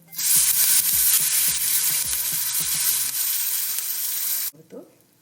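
Turmeric powder and curry leaves hit hot oil in a pan for Kerala rasam, setting off a loud, close sizzle and spatter with a few stirring knocks, which cuts off abruptly near the end.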